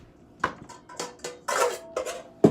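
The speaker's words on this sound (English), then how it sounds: "I better get my bigger bowls out" Aluminum mixing bowls from a set of three clank and rattle as they are pulled out and handled in a home kitchen, several sharp metallic knocks and scrapes spread across a couple of seconds, close and fairly loud with no talking.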